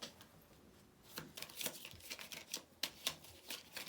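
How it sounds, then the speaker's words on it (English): Small tarot cards shuffled by hand, a quick run of soft riffling slaps and flicks, close and fairly quiet. "You know, little tiny cards, it's so weird to shuffle them."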